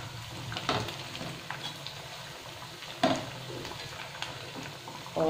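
Sabudana vada sizzling and frying in hot oil, a steady soft crackle with a few sharper pops and clinks from stirring or turning, heard alone without talk.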